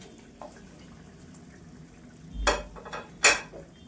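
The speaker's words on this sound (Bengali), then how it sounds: "আর টমেটোগুলো এইভাবে একটু খুন্তি দিয়ে ঘেঁটে দিয়েছি।" A spatula scraping and stirring tomatoes in a cooking pan for a tart tengra fish and green mango dish: a quiet simmer, then two sharp metallic scrapes and clatters close by, with no talking.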